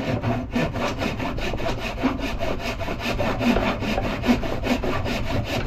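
A wooden wedge for an axe head is cut with a hand saw, a steady run of rasping back-and-forth strokes, loud and close, with no talking.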